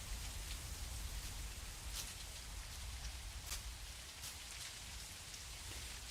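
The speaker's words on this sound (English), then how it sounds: "Of course, it rains again." Steady rain falls in the hunting video game Virtual Hunter, a soft continuous patter of drops on surfaces that stays even and fairly faint throughout, with no voices.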